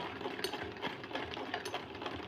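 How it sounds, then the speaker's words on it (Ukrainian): A sewing machine runs briefly, rapid rhythmic needle clatter and motor whir for a couple of seconds, close and steady. "Шиєш, доню, шию, мамо."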